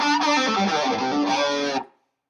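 An electric guitar through a Rat distortion pedal plays a sustained, buzzing chord phrase for under two seconds, then cuts off into silence.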